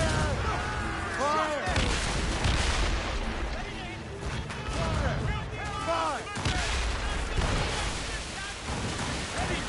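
Ship cannons firing in Assassin's Creed Rogue, a string of heavy booms and crashing impacts at irregular intervals amid battle noise, with voices shouting over the barrage.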